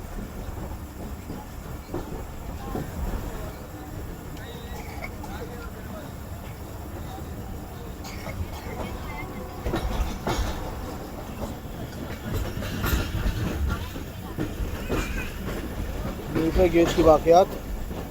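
The 42 Down Karakoram Express hauled by a GEU-40 locomotive passing on a double-track section, heard from inside a coach as rolling clatter and rumble that swells toward the end, with someone talking over it.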